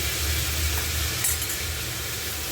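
Flattened rice (chira) is stirred in a hot pan, giving a steady close sizzle with soft scraping through the whole moment.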